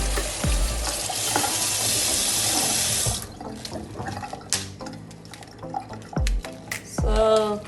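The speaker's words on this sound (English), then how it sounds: "So let's go get this pork chop washed in some vinegar water." Tap water runs loudly into a kitchen sink for pork chops being washed in vinegar water, then stops, followed by scattered splashes, drips and handling clatter close by.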